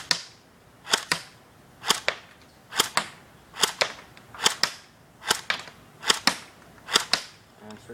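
An M85 airsoft gun fires semi-automatic, about a dozen sharp, snappy cracks at a fairly even pace, each shot alone and close, with quiet gaps between.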